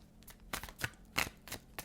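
A deck of tarot cards is shuffled in a quiet room, a handful of quick soft riffling bursts in an uneven rhythm, faint and close.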